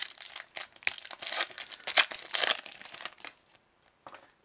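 Crinkling and tearing of foil wrapping as a 2016 Panini Contenders Draft Picks football card pack is ripped open, a burst of close, irregular rustles that fades to quiet near the end.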